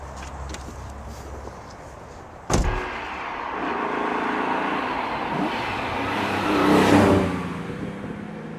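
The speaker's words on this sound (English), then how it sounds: "it's the Speed 6, which is the new TVR-built straight six-cylinder engine" A TVR Speed 6 straight-six engine revs and pulls away, rising to a swelling roar before fading, after a sharp thump, with steady road noise throughout.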